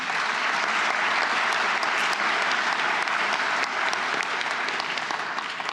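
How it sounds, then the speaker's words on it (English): Audience applause at the opening ceremony of the HR23 conference in Melbourne, a dense, steady clapping from a large crowd that carries on for several seconds at an even level. "Give yourselves a round of applause."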